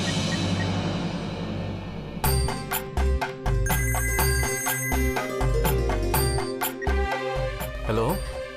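A phone rings while someone calls a husband, a repeated electronic ringtone melody in steady bursts. Faint voices and background noise sit under the tone.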